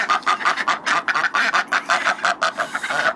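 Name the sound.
ducks quacking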